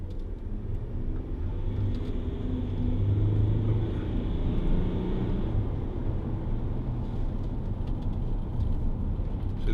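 Land Rover Discovery 4 3.0 TD V6 4x4 pulling away, a low diesel engine rumble with road and wind noise, heard from inside the cabin at a steady moderate level without talk.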